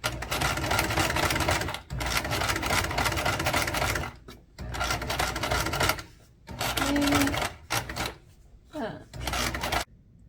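Home sewing machine stitching with a cheap Wish presser foot, running in loud bursts of rapid mechanical whirring separated by short pauses and clicks, with brief handling sounds between runs.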